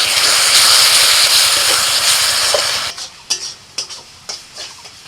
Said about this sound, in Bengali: এই সময় মশলাটা খুব ভালোভাবে কষিয়ে নিতে হবে।